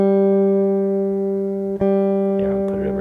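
A guitar note runs through a Red Panda Tensor pedal pitch-shifted lower, holding a steady, buzzy sustained tone with a brief dip midway before a noisier, grainy texture creeps in at the end.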